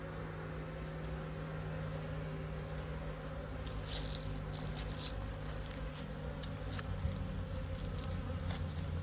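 Honeybees busy at a hive entrance in an apiary in the Vosges, a steady low buzzing hum holding through the whole stretch with faint scattered ticks above it, and no talking.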